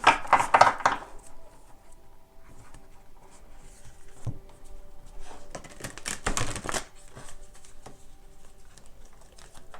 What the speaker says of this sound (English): I do shuffle pretty well. It's just, it's kind of difficult with big cards.